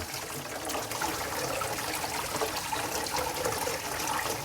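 Cold water runs steadily over blanched mushrooms as they are rinsed, a constant close splashing wash with no pauses and no talking.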